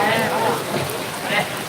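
Rain falls steadily, a dense close patter of drops on a surface, with no distinct thunder.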